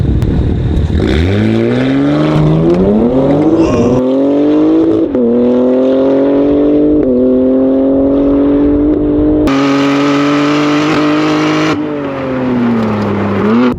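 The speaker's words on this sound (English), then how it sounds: "we're gonna do a launch now in this G80 M3" A BMW G80 M3 with a Valvetronic Designs exhaust launches hard and accelerates through several gear changes, its loud, rising drone climbing in pitch between shifts.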